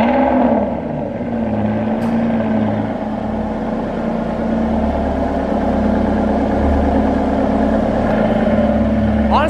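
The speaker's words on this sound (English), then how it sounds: "Listen to this cold start. I'm sure it's about to be insane from that V12." An Aston Martin Vanquish Zagato Shooting Brake V12 starts cold, a loud deep engine roar that settles into a steady, heavy idle, continuous and close, with a faint voice in the background.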